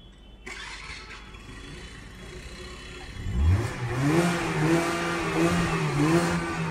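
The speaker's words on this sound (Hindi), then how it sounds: "इसका एक्सीलेटर लो जरा।" A car engine with an exhaust silencer starts up, idles briefly, then revs loudly and unevenly as the accelerator is pressed, staying close and steady with no talk.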